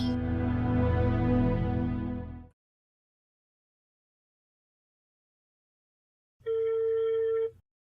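A telephone rings and goes unanswered: a longer buzzing ring tone, a few seconds of silence, then a second shorter ring.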